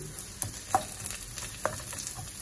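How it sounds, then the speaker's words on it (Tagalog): Chopped onion dropped into a hot, oiled pan for a Filipino green bean sauté sizzles steadily up close, with a few sharper crackles and pops breaking through the hiss. "Ayan po, mainit na yung kawali. So, lagay ko yung sibuyas."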